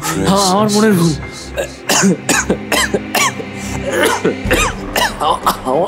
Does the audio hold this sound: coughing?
yes